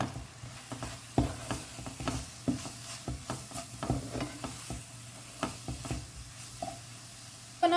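Spices with half a teaspoon of turmeric are stirred in a pan for palak chicken, a steady scraping and mixing with a low sizzle, sounding close and fairly quiet with no talk.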